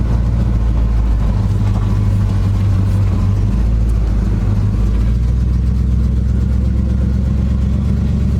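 A 1976 GMC Sprint engine running steadily on bad gas during its first test drive in 15 years, a loud, close, continuous low rumble with slight shifts in pitch, no voices.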